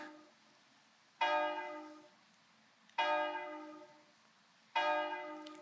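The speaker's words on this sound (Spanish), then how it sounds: "Las campanas doblan." A church bell of San Juan del Duero tolls three times at slow, even intervals, each deep ring resonating and fading before the next.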